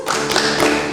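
Hand claps in a children's clapping song, a quick run of close, bright taps filling the whole moment without any voice.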